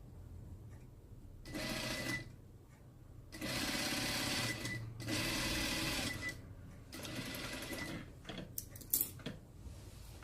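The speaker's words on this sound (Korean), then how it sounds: "이제 이렇게 박음질 할 거예요" A sewing machine stitches the sleeve of a polo shirt being altered, running in several separate bursts of close, steady mechanical whirring, each lasting about a second or two, with quiet pauses and small handling clicks between them.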